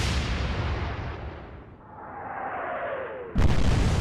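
Naval guns in the battleship game Atlantic Fleet, a heavy roaring boom fading out, a whistling shell with a falling pitch, then a sudden loud blast near the end.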